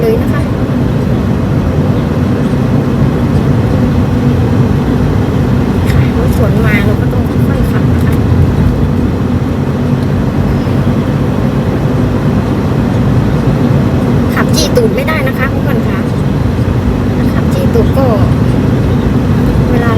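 A car drives slowly along a snowy road in Denmark, with wind blowing snow across it, giving a steady low road and engine rumble throughout while someone talks over it.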